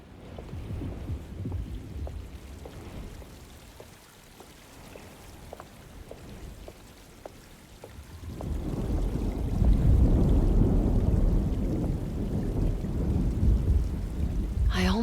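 Rain patters steadily in a stormy Alone in the Dark scene, then a deep rolling thunder swells and lingers, loud and near, with no one talking.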